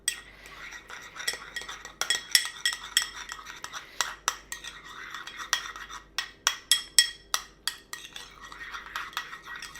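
A utensil stirs wasabi paste into crème fraîche in a bowl, making a rapid series of close, clinking taps and scrapes that keep an uneven rhythm.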